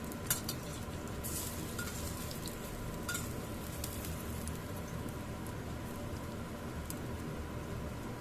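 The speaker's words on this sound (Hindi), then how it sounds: "थोड़े से ऑयल में मैं इनको भून लूँगी" Pakoras pan-frying in a little oil for Punjabi kadhi give a steady, soft sizzle, with a few faint clinks of a utensil against the pan near the start.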